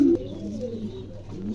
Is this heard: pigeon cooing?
yes